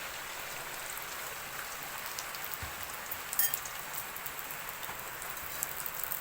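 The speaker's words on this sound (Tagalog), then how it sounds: "Umuulan na dito sa amin." Steady rain falls in a rural provincial setting, a soft continuous hiss of drops on surfaces with scattered louder patters, fairly quiet and unbroken.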